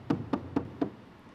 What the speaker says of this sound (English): so get that mallet